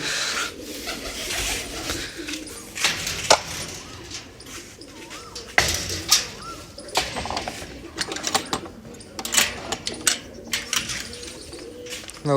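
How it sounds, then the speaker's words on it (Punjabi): Newly released pigeons coo at a home loft, soft repeated calls mixed with sharp clicks and bursts of wing flapping, close by and uneven in rhythm. "ਇੱਕ ਦੋ ਕਬੂਤਰੀਆਂ ਛੱਡਾਂਗੇ"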